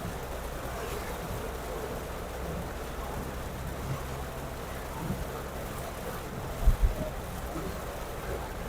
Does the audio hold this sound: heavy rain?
yes